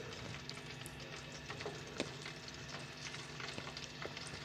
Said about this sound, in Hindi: कढ़ाई में आयल पा लिया वा तो असी पहले गोश्त में फ्राई कर लेने